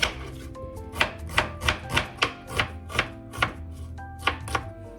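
A knife chops garlic and onion on a board for a whole-chicken adobo, landing about a dozen crisp, evenly spaced strikes in a steady rhythm, close and clear with no talking.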